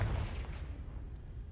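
A Confringo fire spell in Hogwarts Legacy bursts with a deep, booming blast, then a low rumble that fades over a second or so, loud and close with no talk.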